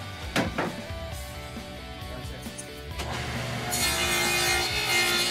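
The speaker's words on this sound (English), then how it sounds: "Right here I'm making the dados, being very careful not to have the wood rock in any way." A saw cuts dados in wood for a storage box with shelves, a steady rubbing, grinding drone that grows louder and brighter partway through, heard close with no talking.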